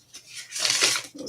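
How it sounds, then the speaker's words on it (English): Tarot cards cut and riffled in a single broadband shuffle, a soft tap followed by a rising papery flutter that swells and fades, close and clear, with no voice over it. "Shayna, I'm going to give it one more cut"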